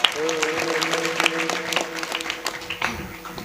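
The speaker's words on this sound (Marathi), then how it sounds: "दादांसाठी एकदा जोरदार टाळ्या वाजवा" Kirtan listeners break into lively, sustained applause for a performer during a Marathi devotional gathering, with a held musical or vocal tone beneath the dense clapping.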